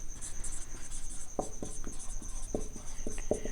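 Marker or chalk writing a point on a board during a mathematics lecture, producing short scratchy strokes with a few sharper taps, fairly close and steady over a faint high background hum.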